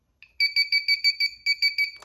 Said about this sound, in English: So we'll set off both types of alarms.